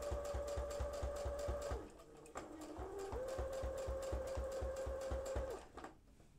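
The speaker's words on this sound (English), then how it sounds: "Going to stitch until it just hits that line." A sewing machine runs steadily, stitching mini piping for a quilt binding, with a fast even mechanical whir and rhythmic needle clatter that briefly pauses near the two-second mark and stops at the end.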